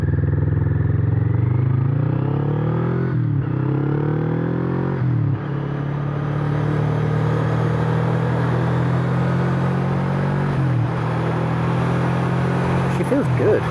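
A Kawasaki Vulcan motorcycle engine warms up after sitting idle for about a week, with a close, steady low rumble and a few brief dips and rises in revs.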